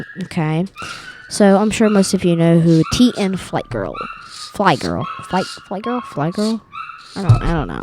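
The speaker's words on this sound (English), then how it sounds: "if you hear my dog in the background" A dog yips, barks and whimpers close to the microphone, its cries mixed in between a person speaking into a podcast mic.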